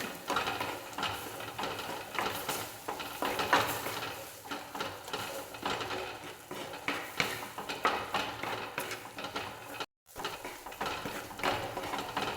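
Ginger being sautéed in a pan for a sardine dish brings busy clinks and scrapes of a utensil against cookware, irregular and close, with a steady low sizzle beneath and a brief dropout near the end.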